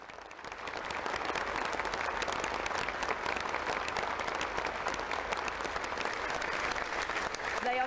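A large outdoor crowd in Manchester breaks into sustained applause after the terrorist attack, a broad, continuous roar of clapping that swells in within the first second and holds steady and loud throughout.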